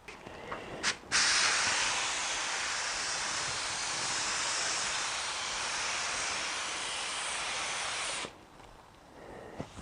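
Paint spray gun laying a second coat on a BMW E46: after a couple of brief trigger taps, a loud, close, steady hiss runs unbroken for about seven seconds, then cuts off abruptly. A few short bursts follow.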